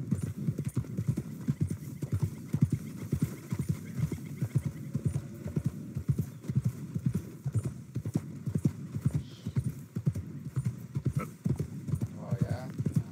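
Horse hooves clip-clop in a steady rhythmic trot in the Red Dead Redemption 2 video game, continuous and close, with people talking over it.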